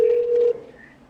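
A landline phone gives a single steady keypad tone, close and loud, that cuts off after about half a second and leaves a faint fading hum.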